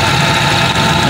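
A Mitsubishi Lancer with a 4G13 engine idles close by with a steady, even rumble and a faint knocking running through it, heard alone with no talking.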